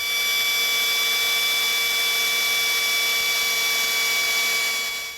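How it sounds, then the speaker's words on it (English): A power drill bores holes through a pickup truck bed cap on a Chevrolet S10 ZR2, giving a steady, continuous whine with bright tonal harmonics held for several seconds, close and fairly loud, with no talking. "then mark and drill your holes"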